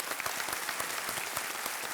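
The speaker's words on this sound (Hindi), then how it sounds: "इसमें हम आपकी प्रशंसा करना चाहेंगे तालियों के साथ" Studio audience clapping on a televised quiz show, steady and dense throughout the two seconds, with no voices rising above it.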